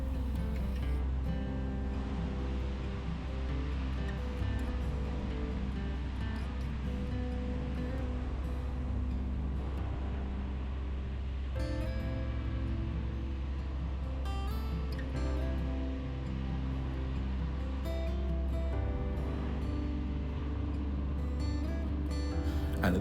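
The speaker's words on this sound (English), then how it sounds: "And then I saw this amazing waterfall." A waterfall near Briksdal Glacier in Norway roars as a steady broadband rush, constant and enveloping throughout, with faint rustling at times.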